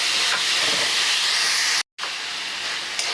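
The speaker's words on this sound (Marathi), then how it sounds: "आता आपण घालूया त्याच्यात कॉर्न शिमला मिर्च गाजर त्याला छान परतून घ्यायचं" Corn, capsicum and carrot sauté in a pan for a sweet corn mixed vegetable masala, giving a loud, steady sizzling hiss that cuts out for a split second and then resumes.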